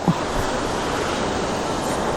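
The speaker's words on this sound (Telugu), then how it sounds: "ఇది వాటర్ ఫాల్ నెంబర్ 2." Waterfall number two in the Ooty ghats, above a valley, pours with an unbroken, loud roar of rushing water that holds steady throughout.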